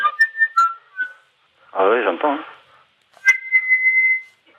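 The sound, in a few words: voice imitating the cries of a seagull being eaten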